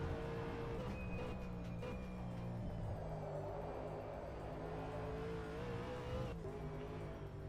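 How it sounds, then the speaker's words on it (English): A V8 race car in a sim racing game locks its brakes into a hard corner at Hidden Valley, its droning engine note steady and loud with a faint tyre squeal under the constant roar. "Hear him locking up into turn one."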